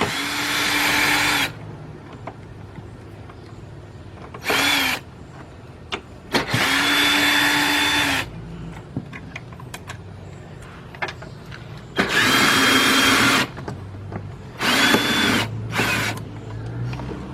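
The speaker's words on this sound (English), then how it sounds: "What I'm using is my 10mm deep with my cordless drill." A cordless drill with a 10mm deep socket whirs in several bursts of a few seconds each, removing dashboard bolts in a 2008-2011 Ford Focus, loud and close, with quiet pauses and light clinks between runs.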